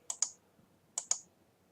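Mouse clicks while stepping through bridge hands on a computer, two quick double-clicks about a second apart, crisp and close in a quiet room.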